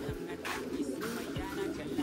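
A stressed pigeon, a blue bar or checkered homing type, coos in low, soft, repeated bursts while being held in the hand. The calls sit close by over a steady background murmur.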